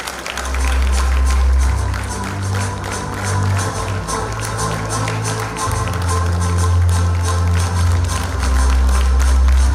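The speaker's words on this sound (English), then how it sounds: "A round of applause for Kiran." Loud audience applause at an inclusivity conference prize distribution as a winner comes to the stage, dense clapping continuing throughout over a low rumbling hum.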